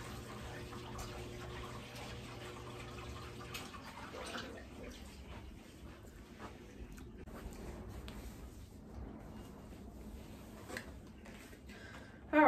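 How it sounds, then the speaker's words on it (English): Indoor decorative waterfall fountain running steadily, a continuous close splashing wash of water that fills the whole stretch at a moderate level with no talk over it. "Let me turn this, my waterfall off because it's making too much noise."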